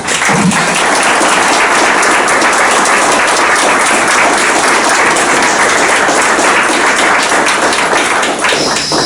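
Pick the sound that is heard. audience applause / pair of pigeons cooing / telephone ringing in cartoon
audience applause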